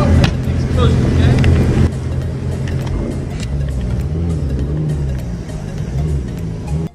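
A Lamborghini engine revs loudly, a heavy roaring drone with surges close by, running almost the full length before cutting off abruptly.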